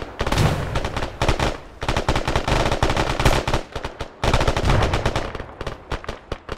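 Rapid automatic gunfire in Arma 3, loud and close, coming in long sustained bursts with brief pauses between them, alone without talk.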